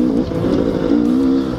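A Gas Gas two-stroke 300 motorcycle engine is revved hard at full power, a loud, close, buzzing snarl with a rough, rasping pulse through the short burst.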